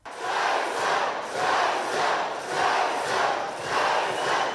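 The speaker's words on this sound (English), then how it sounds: "the crowd was chanting Jason" A hometown crowd at a wrestling-style title fight chants a fighter's name, Jason, in a steady two-beat rhythm repeated about five times, loud and full with no separate talk.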